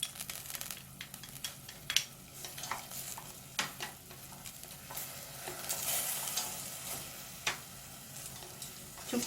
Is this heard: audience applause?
no